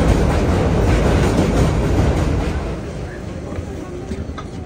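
A New York City subway train rumbles along loudly, a dense roaring rattle of wheels and cars that holds strong, then eases somewhat over the last couple of seconds.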